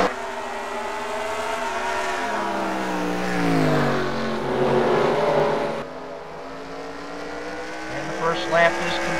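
A pack of race cars roars away from the start of a heat race at Bristol, engines rising in pitch as they accelerate, with a commentator talking over the sustained loud racing noise.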